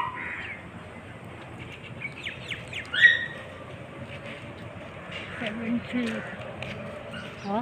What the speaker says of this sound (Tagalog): May mga ibon, ha?